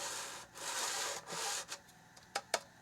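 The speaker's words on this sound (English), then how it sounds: "this is going to be a little bit loud because this sander is kind of loud" A belt sander grinds the bottom of a wild turkey feather quill in a few rasping bursts, then short scraping touches, fairly close.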